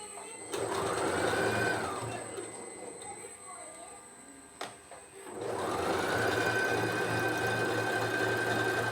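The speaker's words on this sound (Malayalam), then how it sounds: "തിരിച്ച് അങ്ങോട്ടും കൂടെ ഒരു അടി അടിച്ചു കൊടുക്കാം രണ്ട് തയ്യൽ ഇടണം" A sewing machine stitches a nightie in two loud, steady whirring runs close by, separated by a brief pause with a small clunk.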